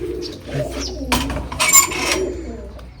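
Soft pigeon coos and a few chirps close by, with brief rustling bursts in between; no speech.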